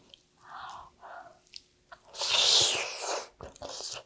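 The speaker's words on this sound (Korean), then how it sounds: "한번 맛을 볼까요? 먹어보도록 하겠습니다." Someone takes bites of freshly made, still-warm mugwort sticky rice cake, pan-fried at home, giving soft chewy, squishy mouth sounds in a few short bursts at close range, with no talking.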